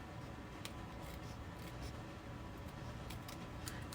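Scissors trim a small overhanging edge off a handmade paper card, a few faint, quick snips and papery rustles close by in a quiet room.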